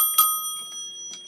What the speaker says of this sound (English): This is an older Western Electric bell.